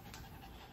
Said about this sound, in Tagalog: Hinihingal ka, Harley boy.